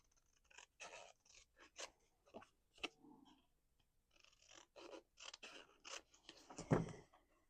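Scissors snip through paper scraps and old book pages at a craft table, a quiet, close run of separate crisp cuts in uneven bursts with short pauses between them.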